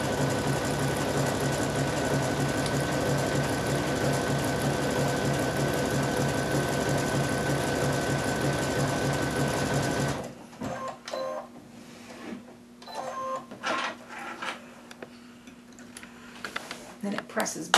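A sewing machine fitted with a winged needle stitches steadily, a close, even mechanical whirring hum for about ten seconds, then stops, leaving quieter handling noises.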